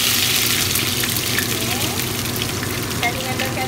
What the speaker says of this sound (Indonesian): Kita nampak minyak dah mula panas. Kita masukkan herba campur terlebih dahulu.